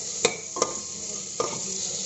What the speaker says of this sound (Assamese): অলপ কাৰণে ভাজি লওঁ।